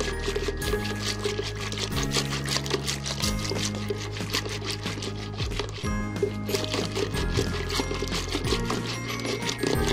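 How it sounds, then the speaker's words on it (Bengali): An electric blender whirs through yogurt for Old Dhaka-style lassi, a continuous motor drone whose pitch steps up and down as the load shifts. "আমি এটাকে ভালোভাবে ব্লেন্ড করে নিচ্ছি।"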